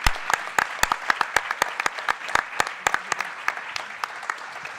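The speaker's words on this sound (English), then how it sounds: "Let's just give a great round of applause to this excellent panel." Audience applause for a conference panel at a development forum, a steady patter of claps from a crowd with sharp individual hand claps standing out throughout, without speech.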